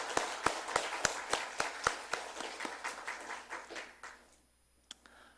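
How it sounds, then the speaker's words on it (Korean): A church congregation claps steadily in a fairly even rhythm, sharp distinct claps filling the room before the sound thins and dies away to near silence with one last stray clap. "우리 주님께 영광의 박수를 한번 올립시다"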